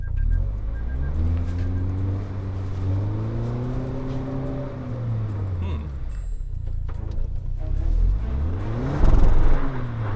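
A Toyota Land Cruiser engine revs in 4 low with the rear differential locked while the vehicle is stuck in snow. The rising and falling engine note is loud and continuous, building to a louder surge near the end.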